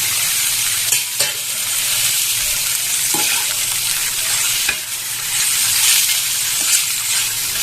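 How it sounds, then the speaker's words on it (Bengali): Tomato goes into a pan of frying ginger-garlic paste and gets stirred, giving a steady loud sizzle with scraping stirring strokes throughout. "টমেটোটা একটু ভেজে দেবো।"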